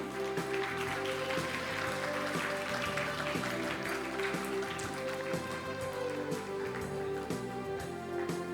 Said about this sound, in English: Kindly keep your claps rolling.